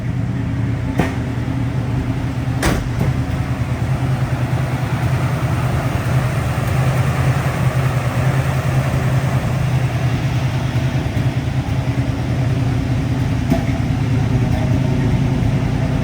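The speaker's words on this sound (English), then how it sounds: "Nice burble coming out of the exhaust." A 1971 Chevrolet Super Cheyenne C-10 pickup idles steadily with a low, rumbling exhaust burble, constant and fairly loud throughout, with no talking.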